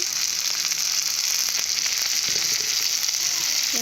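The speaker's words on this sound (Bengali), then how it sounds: "ভালো করে ভেজে নেবো সেটাকে শুক্তো বানানোর জন্য" Bitter gourd pieces for shukto fry in oil with a little salt and turmeric, giving a steady, loud, close sizzle with faint stirring clicks throughout.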